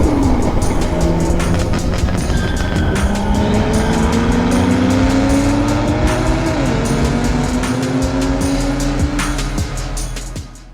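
A BMW 1M with an N54 engine and a full titanium Akrapovic back box revs loudly and close, the exhaust note sweeping up and down through several rising pulls before easing off at the end.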